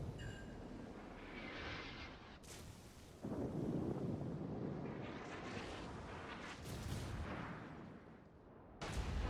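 Heavy naval guns fire from a cruiser in a naval warfare video game, a series of deep booming blasts that roll and echo, with sharp bursts at several points and no talk.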